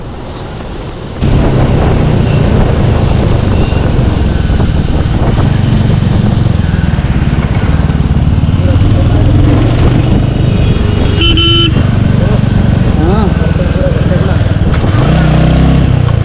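A Royal Enfield Hunter 350 motorcycle pulls hard through the gears, its engine loud and close with rising revs and brief dips at shifts, mixed with wind rush from riding.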